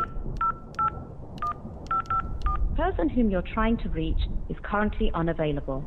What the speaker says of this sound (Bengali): মোবাইল বের করে ফোন করলো সে।